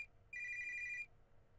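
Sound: phone ringing in a pocket, from video game Your Turn to Die

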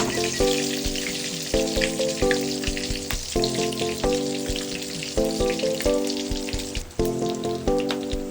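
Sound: lechon kawali (pork belly) frying in a pan

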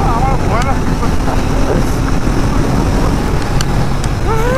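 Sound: Royal Enfield Interceptor 650 motorcycle engine at top speed, fourth gear

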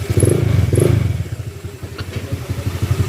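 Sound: Honda ADV160 scooter engine and exhaust pipe sound

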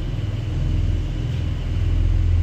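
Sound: Porsche 911 (992) Turbo S car engine rumbling past

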